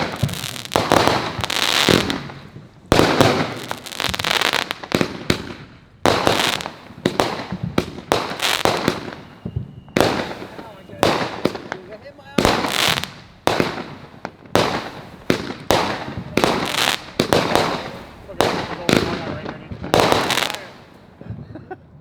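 Fireworks mortars fire in rapid succession at an outdoor show where about fifty were lit at once, loud sharp launch bursts and crackling pops repeating in uneven clusters throughout, close and dominant with little else audible.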